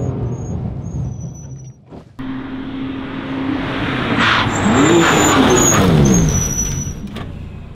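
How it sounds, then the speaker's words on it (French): BMW M2 Competition rated at 680 hp braking hard at a cone on a timed test run, engine roaring loudly close by, then tires squealing and sweeping in pitch as it slows. "On freine au cône."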